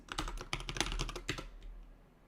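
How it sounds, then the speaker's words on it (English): Quick bursts of keystrokes clatter on a computer keyboard, a short run of typing that trails off into quiet, faint and nearby. "Just so we get the typing thing, so the Zarya knows that we were typing."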